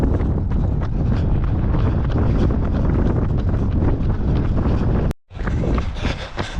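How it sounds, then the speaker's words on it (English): Strong wind buffets the microphone outdoors during a marathon training run on the road, a loud continuous roar that cuts out briefly near the end before returning. "we see we're coming back into the wind"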